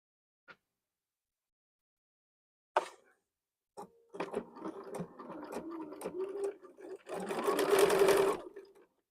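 Sewing machine stitching fabric squares together, its motor whirring in bursts that build into a steady, fairly close mechanical run after a few soft handling clicks and a brief spoken moment.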